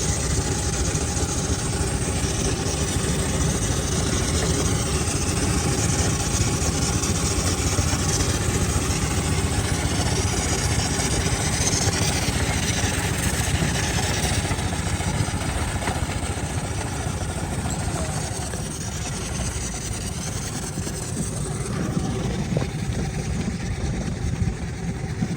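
Several vintage motorcycle engines idle together at a steam and vintage rally's 60th anniversary show, a steady, dense outdoor rumble that holds at a constant level throughout with no talk over it.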